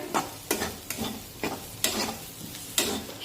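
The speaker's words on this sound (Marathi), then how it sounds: "आता हे मसाले व्यवस्थित मिक्स करून परतून घेऊया" Spice masala being stirred and sautéed in a pan for brinjal curry, a gentle sizzle broken by repeated scraping strokes of a spoon at an even, unhurried rhythm, close and fairly quiet.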